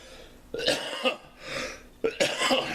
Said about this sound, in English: Pardon me, delayed cough, delayed reaction.